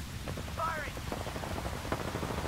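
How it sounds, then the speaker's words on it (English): Bursts of automatic gunfire in the Apex Legends battle royale video game, rapid close cracks in short clusters, with faint game voice lines mixed underneath. "Firing! Taking fire!"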